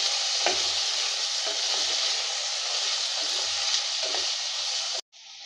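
Ingredients for aloo rice fry and crackle steadily in a pan while a spoon stirs them, the scraping strokes coming at irregular intervals over a constant sizzle that cuts off abruptly at the end.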